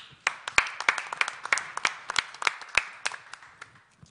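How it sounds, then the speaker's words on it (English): An audience at an industry and education event gives a warm round of applause: scattered, fairly light clapping with distinct individual claps, continuing steadily for several seconds. "with a warm round of applause"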